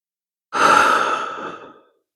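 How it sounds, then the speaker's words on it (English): A single deep, breathy exhale during a beginner yoga session, close and clear, rising quickly and fading out over about a second and a half with no talking. "Deep breath here."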